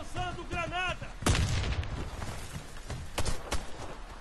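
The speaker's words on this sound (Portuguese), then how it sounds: "Lançando granada!" A grenade in the video game Warface goes off with a sharp, close blast that rolls into a rumbling decay, with scattered gunshots after it and a voice speaking just before.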